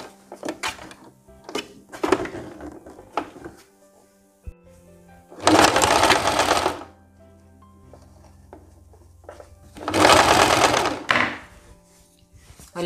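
A sewing machine runs a straight seam on a wrap blouse in two short, close bursts of rapid stitching, separated by quieter fabric handling and clicks.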